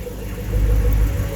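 A 2014 Chevrolet Camaro ZL1 supercharged V8 rumbles steadily at idle after a cold start, a deep continuous engine drone that swells slightly midway, heard up close with no talking.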